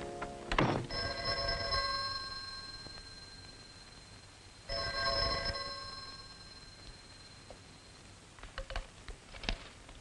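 A nearby telephone bell rings in two distinct bursts separated by a pause, followed by faint handling clicks and rustles.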